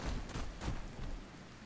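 Steady rain falls at night in the survival video game Ark Survival Ascended, a dense continuous wash of patter with soft low rumbles, no talk over it.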